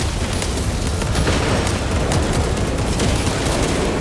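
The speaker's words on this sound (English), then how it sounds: "Throwing crack grenade." Explosive blasts and gunfire from a crack grenade in the video game Warhammer 40k Space Marine 2, a dense, loud and continuous barrage of booms and shots running throughout with no gaps.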